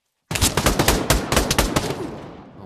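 Dual pistols fire a fast string of sharp, loud shots in the VR shooter Pavlov, about a dozen cracks in quick succession before trailing off, with no talk.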